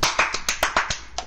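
A handful of sharp hand claps land in a quick, slightly uneven rhythm, close and crisp with no talking.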